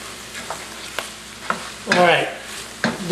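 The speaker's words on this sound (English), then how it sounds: "And then I'm going to mix it up with the mushrooms" Tomato paste is stirred into sizzling mushrooms in a pan, with a few soft scrapes of a spoon over a low sizzle and then a louder scraping stir near the end.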